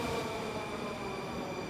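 A Moscow metro train rumbles through a deep underground station, a steady low roar with a faint sustained tonal whine, heard alone without voices.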